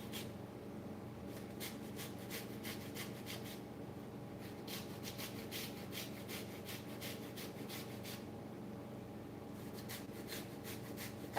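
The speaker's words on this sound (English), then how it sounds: "I'm working up a sweat just grating this cauliflower" Cauliflower being grated by hand, with steady rhythmic rasping strokes against a grater that run close and fairly quiet, in repeated runs broken by short pauses.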